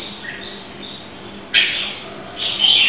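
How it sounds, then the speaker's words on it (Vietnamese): A caged songbird kept as a decoy or pet bird gives loud, bright bursts of song, two sharp outbursts after softer chirping, close by with faint outdoor background. "chim phát ghè phát phải nổ lên luôn như này"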